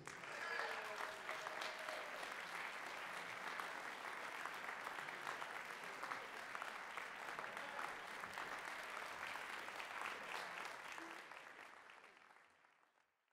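A jazz concert audience applauds a guest vocalist in a sustained burst of dense clapping that stays steady, then fades away near the end, filling the hall without any voices over it.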